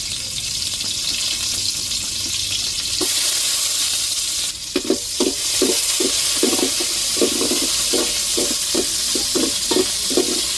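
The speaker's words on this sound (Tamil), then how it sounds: "எண்ணெய் சூடேறிட்டு இப்போ வெங்காயம் சேர்த்துக்கிறோம்" Onions go into hot oil for a Tamil fish kuzhambu, setting off a loud, steady sizzle that keeps crackling throughout while a spoon stirs and scrapes the pan in regular strokes. No one talks.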